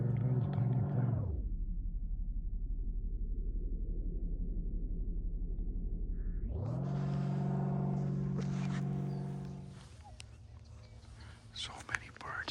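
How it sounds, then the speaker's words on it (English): A small single-engine plane passes overhead as a loud, steady drone with a rising and falling pitch, fading away toward the end against a quiet outdoor background. "Somebody enjoying their little tiny plane."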